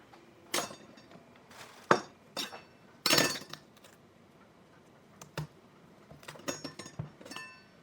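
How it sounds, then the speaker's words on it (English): Kitchen knife being fetched while preparing Rosa Bianca eggplant for eggplant Parmesan: a series of separate sharp metallic clinks and clatters of cutlery and dishes, fairly close, with quiet gaps between them. "Let me get a knife."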